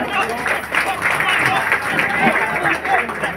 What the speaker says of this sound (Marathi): जोरदार टाळ्या आपण त्यांचं स्वागत करूया